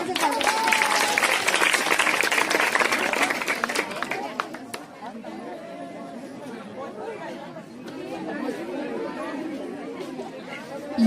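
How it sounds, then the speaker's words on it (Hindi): A school audience claps for teachers at a Teachers' Day and farewell function, with steady applause and chatter for the first few seconds, then fading into crowd murmur and talking. "इनके लिए जोरदार से तालियों से ताली।"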